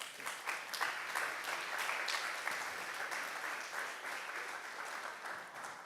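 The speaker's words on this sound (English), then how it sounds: "let's have a big round of applause" An audience at the S+T+ARTS Day 2022 event applauds a panel taking the stage, a dense run of many hands clapping, moderately distant and even, with individual claps popping out of the wash.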